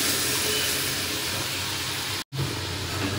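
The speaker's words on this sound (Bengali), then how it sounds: "ডালটা সম্বরা দেব।" Lentil dal is tempered with cumin seeds, giving a loud, steady, close hiss of sizzling that runs almost unbroken, with a brief dip near the end.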